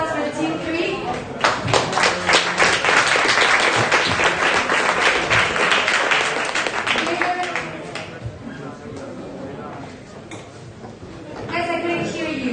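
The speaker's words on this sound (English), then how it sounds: "Let's give a big round of applause for Team 3." An audience at a startup final presentations event claps for Team 3, a dense burst of applause that builds, tapers off, then picks up again, with voices mixed in.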